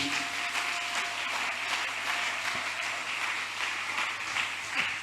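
Church congregation clapping steadily together in praise, a dense continuous applause from a crowd in a large hall, heard at moderate distance with no talk.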